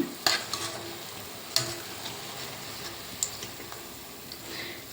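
Brinjal bajji fritters fry in oil with a soft, steady sizzle, punctuated by a few sharp clicks and scrapes of a utensil against the pan.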